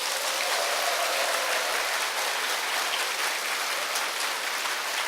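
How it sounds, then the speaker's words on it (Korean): Audience applause at a seminar-style lecture for a business success academy: dense, steady clapping that fills the room evenly for about five seconds without pause. "여러분 진심으로 큰 박수"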